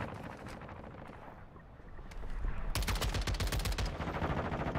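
Rapid automatic MP5 fire in Call of Duty Warzone, a dense sustained burst of loud shots over game ambience in the second half, with quieter action beforehand.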